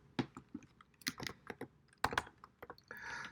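Typing on a computer keyboard, irregular quick key clicks in short bursts, close and fairly quiet, with a faint hiss near the end.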